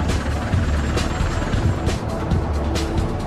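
A V-22 Osprey military tilt-rotor aircraft in flight gives a steady, loud rotor roar with a deep throbbing low end, continuous and unbroken throughout.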